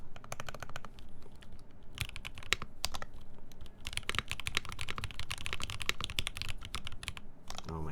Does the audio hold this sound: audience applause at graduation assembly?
no